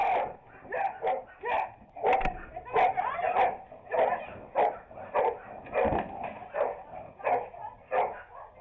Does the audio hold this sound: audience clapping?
no